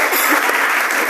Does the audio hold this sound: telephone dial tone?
no